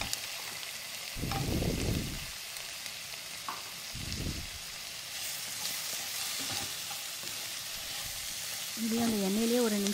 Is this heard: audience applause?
no